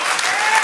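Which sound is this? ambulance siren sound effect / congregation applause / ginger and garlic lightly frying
congregation applause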